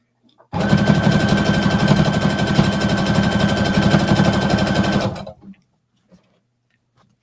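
A sewing machine runs a continuous topstitching seam, a loud close steady whir for about five seconds that then stops, leaving near silence.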